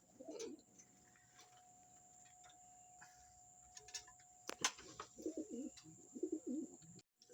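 Pet pigeons in a loft coo in soft, low rounded phrases, a few early and then a cluster of repeated coos near the end, with faint insect chirring and a sharp click in the quiet background.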